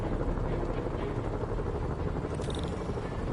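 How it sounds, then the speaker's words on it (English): A helicopter in a Spider-Man video game gives off a steady, muffled rotor drone that sits fairly faint under a constant background wash, with a brief higher tone near the end. "Bet I can use those helicopters to swing."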